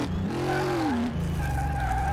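A modded school bus with weak brakes slides on a racetrack in Car Mechanic Simulator 2018, a loud, steady engine roar overlaid with a continuous squealing tire whine, with no talk.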